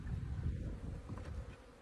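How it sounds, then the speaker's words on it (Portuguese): A swarm of bees being taken from a termite mound to a hive box drones in a low, continuous buzzing hum, close and steady with slight swells in loudness. "Agora é pôr as abelhas na caixa, achar a rainha aqui"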